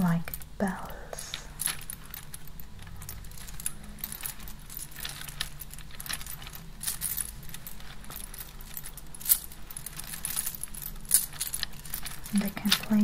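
Christmas beads jangle and clatter steadily as they are handled and sifted, a close, continuous metallic-glassy rattle resembling coins in a chest, with a few sharper clinks.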